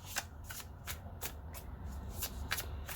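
Tarot cards being shuffled by hand, a run of quick crisp riffling bursts at an even rhythm, close and continuous with no talk.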